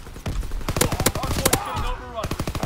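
Shotgun fire in Call of Duty WWII: several sharp, loud blasts come in quick succession over a busy in-game soundscape of other clatter and whooshing effects.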